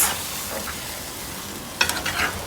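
A spoon stirs curry pork in a pot, a soft scraping under a steady frying hiss, with a brief louder clatter near the end.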